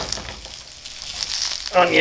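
Sausages sizzling in a hot frying pan, a soft crackle that grows louder near the end, with a faint voice briefly in the background.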